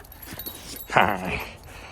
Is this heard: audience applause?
no